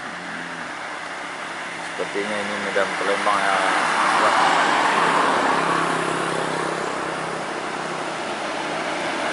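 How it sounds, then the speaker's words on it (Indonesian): A Putra Pelangi bus drives past on a road, its engine and tyre roar swelling to a broad peak and then easing off under nearby traffic hum, while someone speaks. "Bus Putra Pelangi lagi kita jumpai ya."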